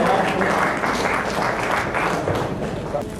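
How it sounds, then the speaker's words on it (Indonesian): An audience claps for Prof. Komar, a dense, fairly loud burst of applause from a seated crowd at a lecture on the meaning of death, easing slightly toward the end. "beri aplaus untuk Prof. Komar"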